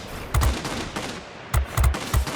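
Machine guns on a Ki-94-I Japanese heavy fighter fire in short, punchy bursts in a flight combat game, roughly four or five loud, close volleys separated by brief pauses.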